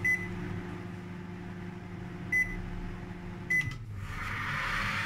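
An oven for Cadbury chocolate tart cookies gives three short, clear beeps spaced a second or two apart over a low appliance hum, then a soft rushing noise near the end.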